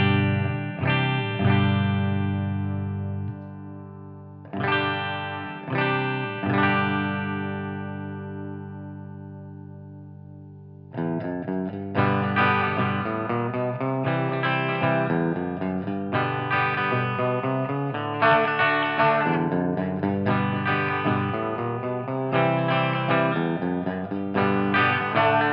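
Electric guitar, a Les Paul through an Empress Para EQ Deluxe pedal set for Telecaster-like twang, plays chords and arpeggios with a bright, twangy tone, sustained notes ringing out, then a busier strummed passage continues steadily.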